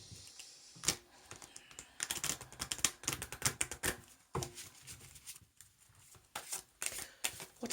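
Tarot cards are shuffled by hand in quick bursts of crisp riffling and slapping, some cards jumping out, with brief pauses between flurries, close and fairly quiet.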